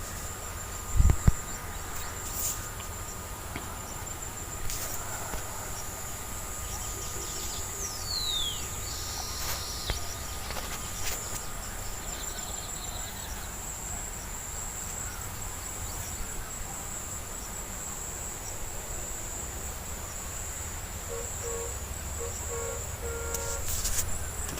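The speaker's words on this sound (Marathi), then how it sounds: "मध्येच त्या काजव्याचा आवाज चिक चिक चिक चिक चिक चिक" Insects chirp in a sugarcane field at night, a faint, steady, continuous trill with no pause. A soft thump comes early, and a few brief, distant bird-like chirps are scattered through.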